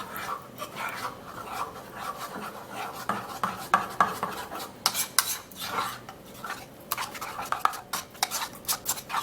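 A homemade anti-ageing skin-care mixture is stirred in a bowl, making close, irregular scraping and rubbing strokes that grow faster and busier toward the end.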